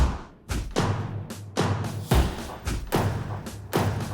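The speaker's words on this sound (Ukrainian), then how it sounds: "І просто мегатонна перкусії зверху." Heavy, booming percussion hits in a steady driving pattern, deep thuds layered with bright crashing cymbals, loud and dense throughout.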